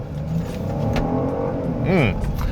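Genesis GV70 3.5T six-cylinder, all-wheel drive, heavy SUV, pulling hard as the accelerator goes down, a steady engine drone rising in pitch near the end, with talk running over it.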